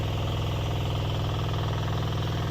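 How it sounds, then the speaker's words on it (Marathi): A tractor ploughing a field in the Konkan region runs with a steady, loud diesel throb and a rhythmic low pulse that holds without a break, close by and with no talking. "तुम्ही आधुनिक कोकण ट्रॅक्टरमधून आता सध्या नांगरणी चालू आहे"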